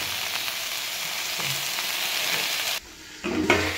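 Tomato, eggplant, spinach and peas frying in a pan, a loud continuous sizzle that briefly drops away near the end before resuming.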